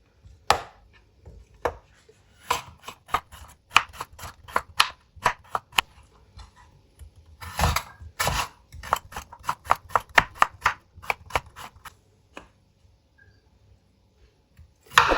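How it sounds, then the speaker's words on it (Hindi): Turnips are cut with a knife on a board, giving many sharp, close chopping knocks in uneven bursts, some quick runs and some lone strokes with short pauses, with no talking. "अब इनकी करेंगे कटिंग।"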